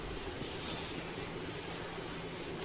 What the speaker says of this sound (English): Oh, another heli? Do you hear that heli?